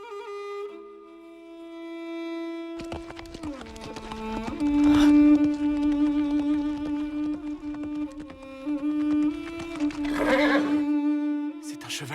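A white thoroughbred horse gives several loud, close whinnies, two of them long and shrill, over a soft musical background with faint clip-clop.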